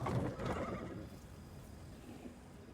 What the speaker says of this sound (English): He's interrupted by the sounds of wheels rolling on the paving stones.